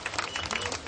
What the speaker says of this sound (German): Extra Applaus mal für den Torben